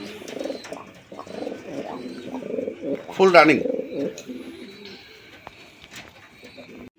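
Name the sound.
pigeons cooing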